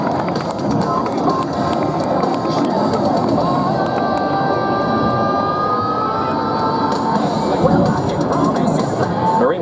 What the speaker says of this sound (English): let's give a big round of applause to the Marines of today's Marine Air Ground Task Force